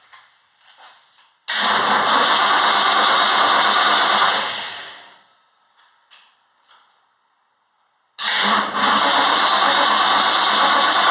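A 1966 Ford Mustang, fuel-primed through both carburetors, cranks and fires into a loud close running roar that dies away, then after a pause of faint clicks catches again and keeps running strongly to the end.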